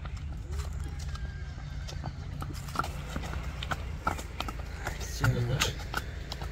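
A Kyrgyz horse about 1.43 m tall whinnies while its hooves clip-clop on the ground as it is led, with someone talking over the steady background throughout.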